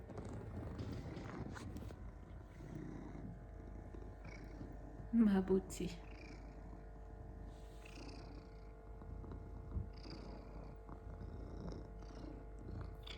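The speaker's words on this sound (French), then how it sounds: "Vous devriez l'entendre ronronner." A male pet cat curled up in a cozy spot purrs softly and steadily, a faint low rumble under a woman's murmured speech and light rustling, with a brief louder scrape midway.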